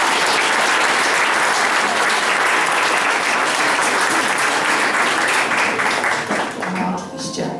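Audience applause at a school year-end ceremony, loud and sustained dense clapping from a large crowd that holds steady, then begins to thin and fade near the end.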